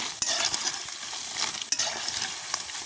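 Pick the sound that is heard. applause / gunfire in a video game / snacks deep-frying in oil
snacks deep-frying in oil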